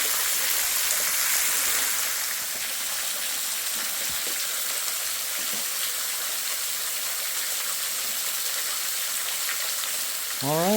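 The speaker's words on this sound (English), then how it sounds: "got a waterfall." Waterfall at the end of a trail near Blanchard Springs, a constant broadband rush of falling water that fills the whole stretch evenly and fairly close, with no voices.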